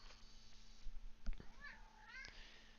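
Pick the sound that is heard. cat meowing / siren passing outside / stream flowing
cat meowing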